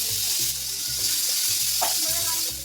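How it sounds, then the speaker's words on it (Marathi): Fried rice sizzles steadily as it is tempered in a pan, a constant hiss over a low rhythmic hum with faint stirring and clinks in a home kitchen. "आता भाताला फोडणी देते"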